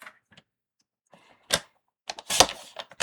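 Rotary cutter slicing quilt fabric pieces in half on a cutting mat, a few sharp crisp cutting strokes with short gaps between them, close and alone.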